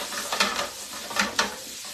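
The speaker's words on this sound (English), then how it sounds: "it's just now starting to re-sizzle" Potatoes sizzling and frying in a pan at a moderate level, with a few louder scraping bursts as they are stirred and shaken, and no voices present.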